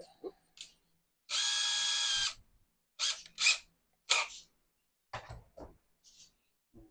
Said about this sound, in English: we're going to drill holes in it in the bucket